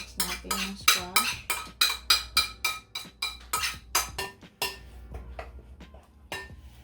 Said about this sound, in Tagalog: i-mix natin yung squash